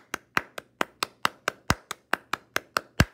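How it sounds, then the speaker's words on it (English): Hands clap alone in a steady, evenly spaced rhythm, about fourteen sharp, close claps in a row with no talk. "everybody clap your hands"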